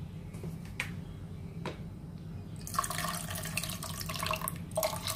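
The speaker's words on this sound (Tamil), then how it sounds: "சோ நான் கொஞ்சமா தண்ணி ஆட் பண்ணிக்கறப்போ" Water is poured into a pot of rice rava payasam, a soft close splash and trickle that starts partway through after light kitchen clicks, with no talking.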